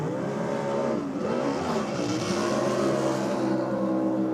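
A nitro drag racing car at the 2023 Nitro Champs builds boost, its engine droning loudly with rising and falling harmonic whine that climbs steadily over the few seconds, with no talk.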